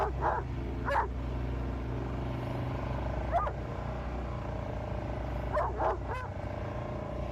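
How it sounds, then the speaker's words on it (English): A dog barks in short bursts, a couple at first, then one alone, then a quick pair, over a low steady background hum. "What are you barking at?"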